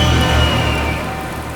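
Steady rain hisses across the whole stretch on a rainy night near a forest, a dense wash of drops with low tonal drones humming underneath, no voices.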